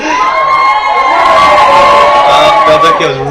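A wrestling crowd at a CCW event cheers and shouts loudly, with mixed voices, whoops and children's yells forming a sustained roar that swells through the clip.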